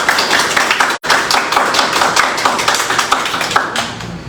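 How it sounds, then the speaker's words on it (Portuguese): Church congregation clapping during a Sunday worship service, a dense, loud wash of many hands with a brief break near the start before resuming steadily. "as palmas são para Jesus."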